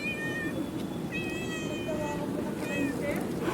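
A talkative street cat meows repeatedly in a busy outdoor area, several drawn-out, fairly close meows with short pauses over low background bustle.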